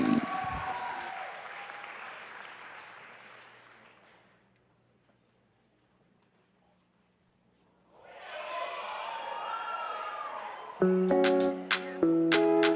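An audience applauds and cheers for models at a live show, a dense wash of clapping that fades to near silence mid-clip, then rises again before loud music with sharp tones cuts in.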